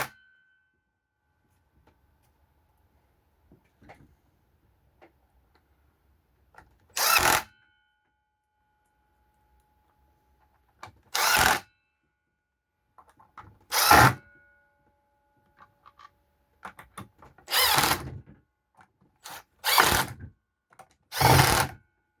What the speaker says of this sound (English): all I do is tighten up the screws back how they were